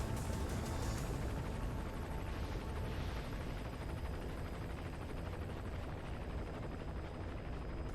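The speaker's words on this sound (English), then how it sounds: "Oh, there's a chopper." A helicopter in a video game thrums as a continuous loud rotor roar throughout, with no talk over it.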